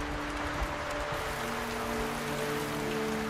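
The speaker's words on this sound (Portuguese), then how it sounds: "A chuva cai continuamente, está muito forte, a intensidade está aumentando." Heavy rain falls without pause, a dense, even hiss of drops that fills the whole stretch, with a faint low hum beneath it.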